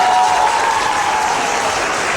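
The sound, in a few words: studio audience applause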